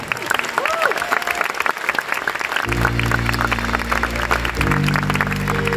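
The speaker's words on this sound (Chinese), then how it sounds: "给自己掌声鼓励一下" A concert audience applauds loudly and continuously at a live show, a dense patter of clapping with a voice speaking over it at first, then sustained musical tones joining the applause.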